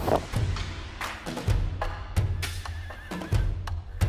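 A horse in a riding and racing setting, heard as a close, uneven series of snorts and whinny-like bursts mixed with dull thumps and shuffling hoof sounds.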